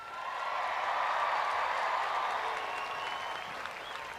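A large commencement crowd breaks into sustained applause for a high school's graduating class, a broad, even roar of clapping that swells and holds steady for several seconds, with cheering mixed in.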